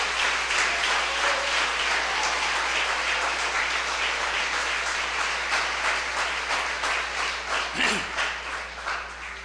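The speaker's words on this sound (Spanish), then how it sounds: "Si le va a aplaudir, apláudele como Él se lo merece." A church congregation applauding during a Sunday worship service, a dense, sustained wash of clapping that continues for several seconds and thins slightly toward the end, with a low background hum.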